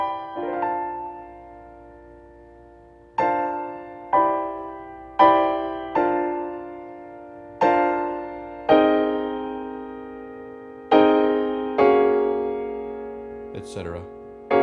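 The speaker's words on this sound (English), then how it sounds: "Copland chord sounds kind of like this." Piano sounding the Copland chord, about ten bright, sustained chord strikes spaced a second or two apart, each ringing out and decaying, with a brief scrape of noise near the end.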